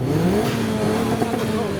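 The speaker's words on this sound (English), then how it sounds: "The Rolls-Royce is revving again." A Rolls-Royce engine revving with rising and falling tonal whine, fairly loud and nearby at a car meet, with some crowd chatter beneath.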